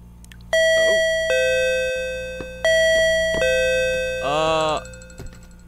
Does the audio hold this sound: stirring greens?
no